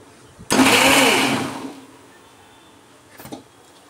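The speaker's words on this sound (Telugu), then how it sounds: "దీన్ని ఇప్పుడు మనం మిక్సీ పట్టుకుందాం." A kitchen mixer grinder (mixie) whirs loudly for about a second while grinding chutney ingredients with salt, then quickly winds down into near silence before a brief faint clatter.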